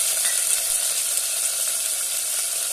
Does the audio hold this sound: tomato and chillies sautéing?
yes